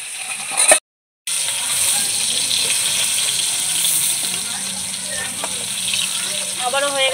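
Hilsa fish pieces fry in hot oil, giving a close, steady hiss and sizzle that fills the clip after a brief cut-out near the start.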